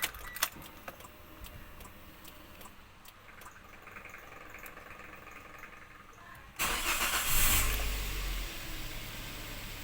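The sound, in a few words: 2017 Daihatsu Terios VVTI engine starting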